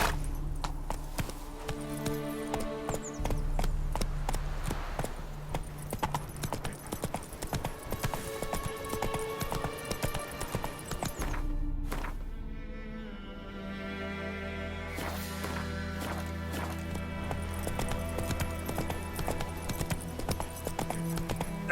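Roach the horse gallops in The Witcher 3: Wild Hunt on PlayStation 5, with steady, rhythmic hoofbeats running under a continuous musical score for the whole stretch.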